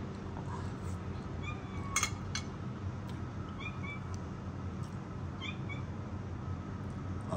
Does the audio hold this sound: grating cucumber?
no